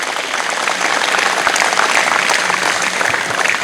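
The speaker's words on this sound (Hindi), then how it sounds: "एक बार जोरदार तालियां अपने लिए जयबीर अखाड़ा बुपणिया के लिए" Loud, dense applause from an audience honoring the Jaibir wrestling akhara of Bupania in Haryana, steady clapping filling the whole stretch without a break.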